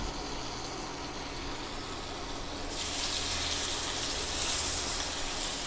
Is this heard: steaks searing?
yes